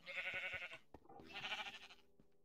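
A Minecraft sheep gives two close, clear bleats in quick succession, each a wavering nasal cry, with a brief gap between them and no talk.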